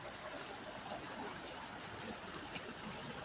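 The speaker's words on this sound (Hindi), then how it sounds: "बरसात गिर रही है" Rain falls at night near a small river under a little bridge, a steady, even hiss of water with no voices.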